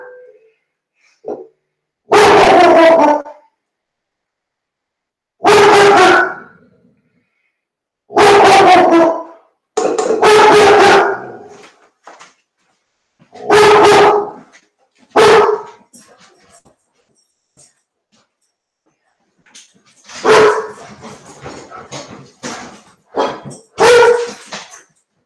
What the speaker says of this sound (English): Somebody's walking their dog down the street, so it makes my dogs a little crazy